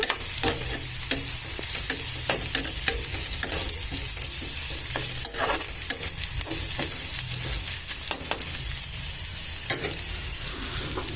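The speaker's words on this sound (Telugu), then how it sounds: "మనం ఇప్పుడు ఫ్రై చేస్తున్నాం" Chicken samosa filling frying in a pan, a loud continuous sizzle with rapid scraping stirs of a spatula against the metal, close up and unbroken by speech.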